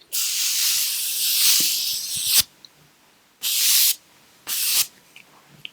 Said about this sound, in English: I'm going to melt everything using my Morphe setting spray.